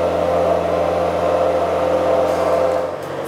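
Engine-powered JLG boom lift driving at middle speed with high torque, a steady loud engine drone with constant tonal hum, easing slightly at the end.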